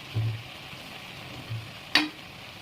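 Chicken gravy cooking in a pan, with a low sizzle underneath and a few scraping stirs, ending in a sharper clatter near the close.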